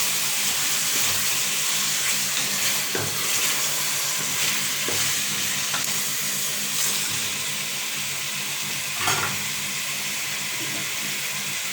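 Chicken for a chicken biryani stirred in a pot: a steady sizzling hiss with occasional scraping and clinking of a spoon against the pot, close and continuous.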